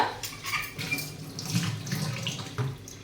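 Soaked pearl millet grains are washed by hand in water, with continuous sloshing, splashing and swishing close up and a few small knocks against the vessel, with no talking.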